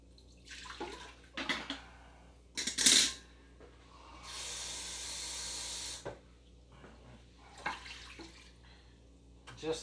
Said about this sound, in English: Fill that up with some water.